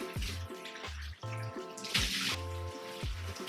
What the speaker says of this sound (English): So I need to rinse all of this out.